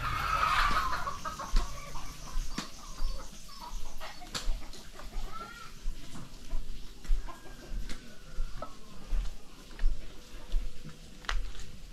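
Chickens cluck and call steadily around a village yard, a mix of nearby hens and a possible fighting cock, with a faint crow-like call early on and general outdoor background noise throughout.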